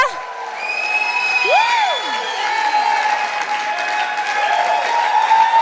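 A church congregation claps and cheers in a steady, loud wash of applause, with whoops and sliding tonal sounds rising over the crowd noise throughout.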